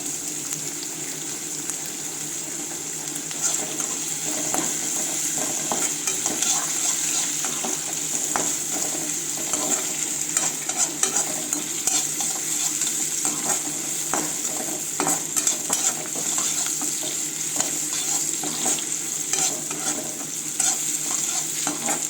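Onions and curry leaves frying in a pan for chicken fry, loud continuous sizzle with constant spatula scraping and stirring throughout, no talk.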